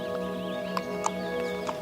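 A horse walks outdoors, its hooves giving a few light, evenly spaced clip-clops over a steady tonal background, with no speech.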